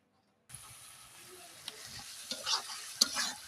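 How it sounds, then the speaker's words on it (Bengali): Onion with ginger, garlic, cumin, turmeric, chili and salt sizzles in a pan while being stirred. The frying starts after a half-second of silence and holds as a soft, close hiss with scraping stir strokes and small pops. "ভালো করে কষিয়ে নেব।"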